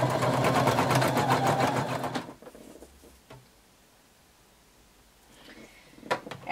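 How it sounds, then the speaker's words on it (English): Sewing machine stitching overlapped swimsuit waist elastic runs in a fast, steady close whirr for about two seconds, then stops, followed by quiet handling clicks and rustles. "You're going to overlap your elastic by 5/8 of an inch. And you're going to stitch it together."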